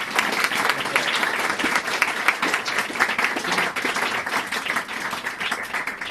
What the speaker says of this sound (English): An applause for Eleonora.